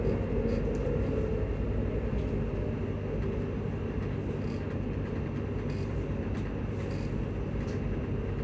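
Steady low rumble of a moving train bound for Edinburgh Waverley, heard from inside the carriage, a continuous drone with faint rattles and clicks, no voices.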